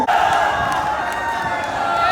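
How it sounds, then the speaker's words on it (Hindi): Audience at a college fresher party cheering and clapping for a dance crew, a loud crowd roar with whoops that stays steady and close throughout the brief moment. "तो चलो अपनी तालियां तैयार करो और चीयर्स करो"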